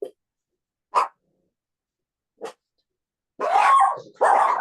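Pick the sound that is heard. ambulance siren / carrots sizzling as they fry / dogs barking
dogs barking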